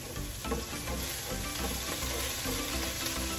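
Garlic sizzling and frying in a hot pan, a dense steady crackle with occasional stirring scrapes, close and continuous.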